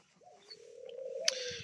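Soft single coo from a pigeon or dove in an aviary, a low drawn-out call rising slightly, faint and close with light rustling at the end.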